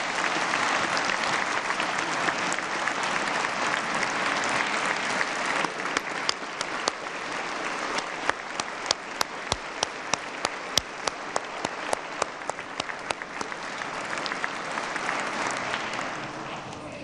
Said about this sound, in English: give them a monstrous round of applause